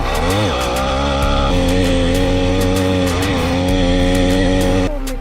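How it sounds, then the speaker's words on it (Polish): Bicycle fitted with a small combustion engine, its buzzing two-stroke-style motor loud and close, revving up and down in steady harmonic sweeps while riding, cutting off near the end. "chciałbym wam pokazać jazdę rowerem z silnikiem spalinowym"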